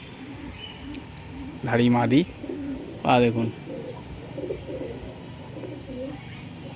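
Breeder's pigeons coo in a yard, two loud rolling coos standing out amid fainter calls, while someone talks nearby.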